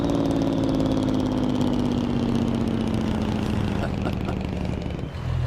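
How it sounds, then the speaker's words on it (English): A big American truck rig in Farming Simulator 25 with its Jake engine brake engaged: a loud, steady low engine rumble with a falling drone, continuous, close and sustained, easing off at the very end. "In America we call it a Jake brake."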